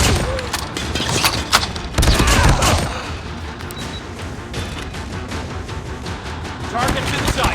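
Gunfire in the mobile shooter Call of Duty Mobile, with a pistol among the weapons: a cluster of sharp shots and bursts, then scattered lighter pops, loud and close amid game effects and some talk.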